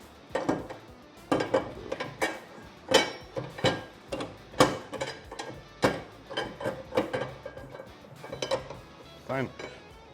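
A wheeled workbench clamp stand is cranked down and then raised into place, producing a quiet series of clicking, clanking metal ratchet knocks in an uneven rhythm, with faint talk nearby.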